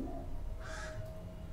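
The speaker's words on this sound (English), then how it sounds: "peacock." A peacock gives a single loud, harsh call lasting under a second. It rises out of steady low background noise, with no voices.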